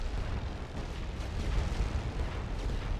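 Steady rumbling artillery barrage in a World War I strategy game, a dense low roar of continuous distant shelling with no distinct individual blasts, loud and sustained throughout.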